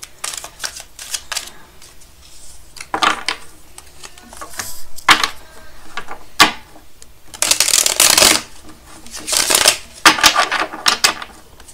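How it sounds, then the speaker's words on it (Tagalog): Playing cards are shuffled by hand in repeated bursts of crisp riffling and snapping, close and fairly loud, with short pauses between shuffles. "Balasahin muna po natin."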